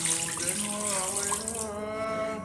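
Half a litre of water pours into a wok with desi chicken, making a steady, close, gurgling splash that lasts throughout with no talk over it.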